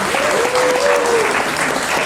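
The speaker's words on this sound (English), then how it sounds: "And another round of applause to the judges." Brief, steady applause from a hackathon audience for the judges, a dense wash of clapping with a voice briefly rising over it early on.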